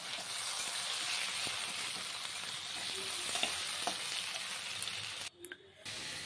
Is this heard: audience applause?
no